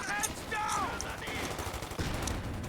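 Bursts of machine gun fire in a tactical shooter video game, sustained and loud across the whole stretch, mixed with other game effects.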